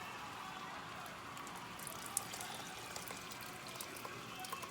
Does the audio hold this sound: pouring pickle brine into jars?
yes